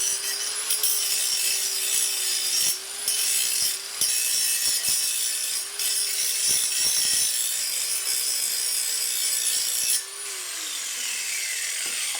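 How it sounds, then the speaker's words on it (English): A grinder cuts through the exhaust pipe to separate it from the tailpipe on a 1998 Chevy Blazer during a MagnaFlow muffler install, a loud continuous close whine with brief dips and a falling pitch near the end. "now we're going to take the pipe itself and grind it separate from the tailpipe"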